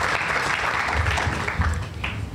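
Brief round of audience clapping at a Tiger Bay Club of Manatee law enforcement luncheon, a dense, moderately loud patter lasting a couple of seconds and thinning slightly toward the end.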